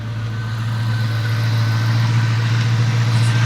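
A Ford Mustang engine idles smoothly and steadily at close range, a deep, even hum with no revving and no talking.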